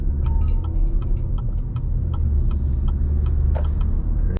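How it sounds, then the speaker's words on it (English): A car passing on a road near Neah Bay, Washington, a loud steady rumble of engine and tire noise with light ticking, heard from inside or beside a vehicle, no talk. "Pretty sure that car was speeding."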